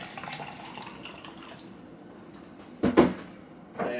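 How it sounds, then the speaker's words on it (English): Water from a tap running into a plastic shaker bottle, a soft trickle followed by a couple of sharper clunks and splashes as the bottle is handled. "gotta fill it up with some more water"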